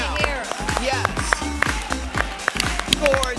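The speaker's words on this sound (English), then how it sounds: "Big round of applause" Studio audience clapping on a talk show as canine contestants are brought out, a steady patter of applause with a few loud sharp claps close by, while a host talks over it.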